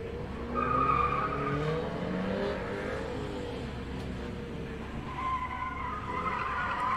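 A car spins out at a motor club gymkhana test, its tires skidding and squealing in a long smear of sound as the engine revs, heard at moderate distance with no talk.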